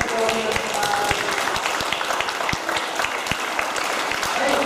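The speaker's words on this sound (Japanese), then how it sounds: "拍手で、歓迎しましょう" Audience claps in welcome at a community event, dense applause filling the room at a steady level, with faint voices mixed in under it.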